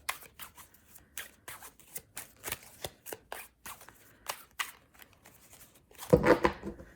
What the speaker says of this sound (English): I'm just going to shuffle and then I'm going to split the deck